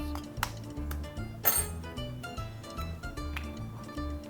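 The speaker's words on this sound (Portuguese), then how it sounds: "E agora vamos para separação de ovos." Eggs being separated for carbonara in a home kitchen, with a string of light clinks and taps of shell and utensils against bowls and dishes over a low background hum, moderately quiet and close.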